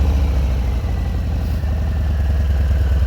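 A 2019 Harley-Davidson Fat Bob 114 Softail with Bassani exhaust idles loud and close, a deep, steady, lumpy rumble with even low pulses and mechanical clatter, and no talking.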